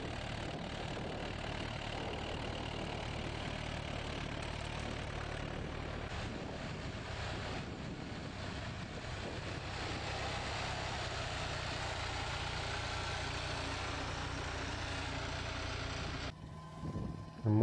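A tractor engine drones while plowing, a steady low, loud rumble that continues unbroken for most of its length, then cuts out abruptly near the end, with no voices.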